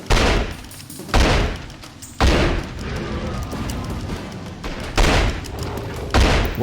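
Shotgun blasts in The X-Files: Resist or Serve game, about six heavy booming shots at a steady pace roughly a second apart, each followed by a short rumbling tail.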